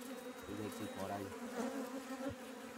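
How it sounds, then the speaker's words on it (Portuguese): Wild bees buzz in a continuous close hum on a farm, with the drone rising and falling slightly as they move, faint low knocks underneath. "As abelhas estão abandonando a gente"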